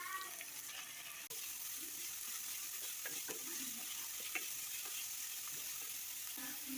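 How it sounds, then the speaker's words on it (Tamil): Finely chopped big onions and spring onion bases sauté in a pan for a mushroom gravy, making a quiet, steady sizzle broken by light clicks and soft stirring scrapes, with no voices. "பொடியாக கட் பண்ண பெரிய வெங்காயம் எல்லாத்தையுமே சேர்த்துட்டு நல்லா வதக்கிக்கலாங்க"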